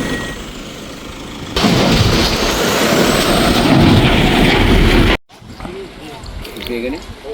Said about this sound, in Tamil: பாலத்தால் ஒரு கனரக வாகனம் ஒன்று